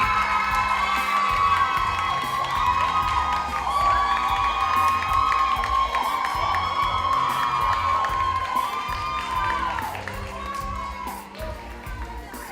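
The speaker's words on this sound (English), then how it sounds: "a big round of applause again for our outstanding directors" Excited crowd cheering with high children's shouts and whoops at a performing arts awards ceremony, sustained loud voices over a low hum before easing slightly near the end.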